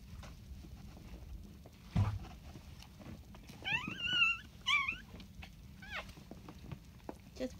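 A few thin, high whimpering squeaks from a newborn Airedale puppy rise and fall around the middle, with soft rustling and a low background hum beneath.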